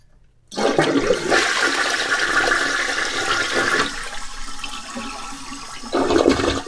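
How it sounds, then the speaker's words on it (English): A toilet flushes right after a Fluidmaster tank repair kit install, with a strong close rush of water that eases off, then swells briefly again as the tank refills. "Let's give it a flush, see what happens."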